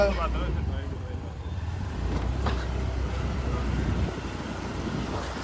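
Low, steady engine rumble and road noise from inside a moving car, continuous throughout with no speech.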